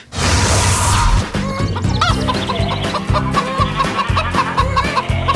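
A farmyard chicken clucking loudly and close, repeated rapid clucks over a busy background of other noise throughout.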